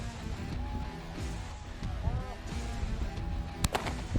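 Gunshots ring out at a 2015 PSCA qualification shooting competition in San Antonio, with a few sharp, fairly distant cracks near the end over a busy outdoor background.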